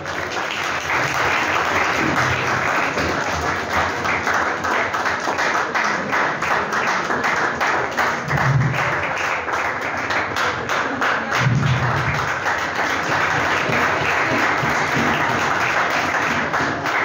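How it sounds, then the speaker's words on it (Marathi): An audience claps loudly and continuously at a school science club event marking Albert Einstein's birthday, as a guest is welcomed with a bouquet; the dense applause holds steady for the whole stretch. "जोरात टाळ्या झाल्या पाहिजे."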